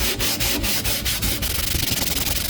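Hardened expanding foam patching a hole in a hollow core bedroom door is sanded with a stone wrapped as a makeshift sanding block, in rhythmic close scraping strokes that quicken toward the end, with no talk.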